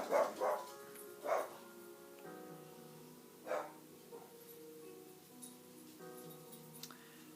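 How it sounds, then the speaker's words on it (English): A few sharp dog barks indoors near the start, then scattered fainter yips, with a steady hum and faint ticking underneath. "If you guys heard barking in the background, I apologize."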